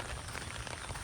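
Steady rain patters across a nature trail in Chandigarh, a dense, even hiss of drops falling on the surrounding surfaces, brief and fairly quiet, with no voices.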